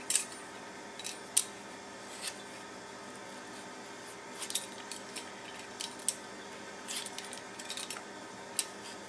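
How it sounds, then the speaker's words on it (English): A knife works through peaches on a board with soft, scattered cutting clicks and small knocks, quiet and close against faint room hiss, with no talking. "You're going to want to peel, pit, and thinly slice 8 peaches."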